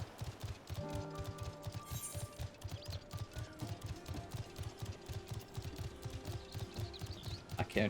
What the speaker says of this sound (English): As I ride on my cool darkness horse.